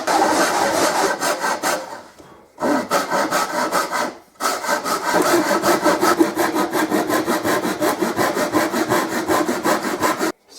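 Glued-in wooden linings on a guitar rim being sanded flat by hand: rapid, even back-and-forth scraping strokes, loud and close, running in long bursts with two brief pauses; no talking.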